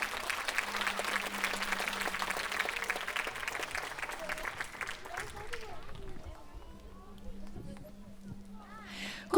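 Audience applause at a sports dance club concert in Nesebar, loud dense clapping for several seconds that thins and fades, with a low hum beneath and a brief burst at the end.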